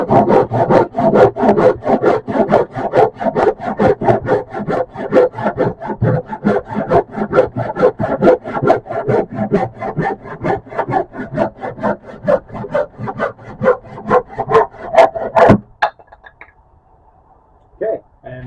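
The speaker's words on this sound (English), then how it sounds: "we have our freshly sharpened saw, and we have the same board that we cut before" A freshly sharpened hand crosscut saw rips through a wooden board in fast, steady rhythmic strokes, loud and close, for about fifteen seconds, then the cutting stops and a few faint knocks follow.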